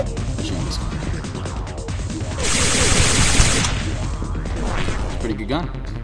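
Gunfire in the space trading game Space Trader: Merchant Marine crackles as loud bursts of rapid shots with whooshes and impacts, building to a dense, bright blast in the middle of the fight.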